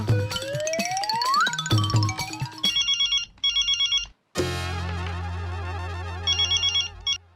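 A phone rings during a call with a bright electronic ringtone: a rising sweep, then repeated chirpy beeping bursts, a short break, and a longer buzzing trill followed by more quick beeps, fairly close and clear, with no talking.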